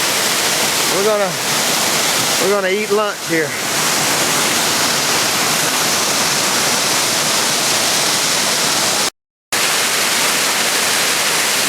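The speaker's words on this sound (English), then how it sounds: "Water falling off that rock there." Continuous loud rush of water pouring off a rock at an 80-foot wilderness waterfall, heard up close and unbroken, while someone talks briefly over the roar early on.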